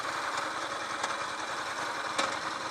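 A vehicle engine idles with a steady mid-pitched hum and a faint rhythmic ticking, a few sharper clicks standing out, moderately quiet and close.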